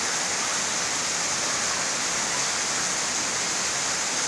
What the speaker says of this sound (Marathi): आमच्याकडे खूप मोठा पाऊस पडत आहे